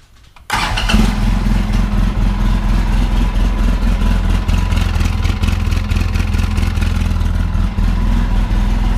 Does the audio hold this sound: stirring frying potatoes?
no